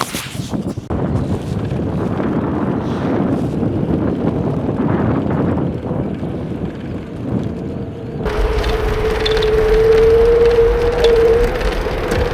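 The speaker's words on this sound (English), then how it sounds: "It's too windy here." Strong wind buffets the microphone outdoors in Berlin, a loud rumbling roar that stays heavy throughout, with a brief tonal whine joining in near the end.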